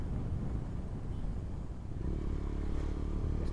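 A motorcycle rides ahead on a road near Dolalghat, giving a continuous engine rumble at moderate distance with slight shifts in pitch and a brief dip midway.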